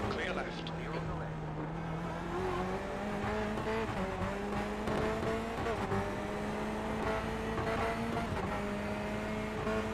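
GT3 race cars in the iRacing simulation at Sebring's 12-hour race, engines droning steadily close together with shifting pitch as the pack battles, tyres faintly squealing, a voice talking over the continuous roar.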